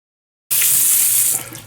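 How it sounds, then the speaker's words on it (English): A kitchen tap suddenly turns on and runs steadily as a thrifted Monster High doll's hair is washed with dish soap, a loud close hiss of water splashing into the sink that eases slightly near the end. "I'm also going to wash her hair using the dish soap as well"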